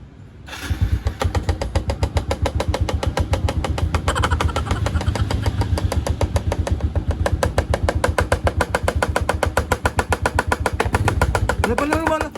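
A broken motorcycle engine runs steadily with a rapid, even knocking throb that stays loud and close for the whole stretch, with no break in the pulsing.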